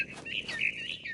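Bird chirps in What Remains of Edith Finch, a string of bright, close tweets and trills with a soft ambient hush underneath.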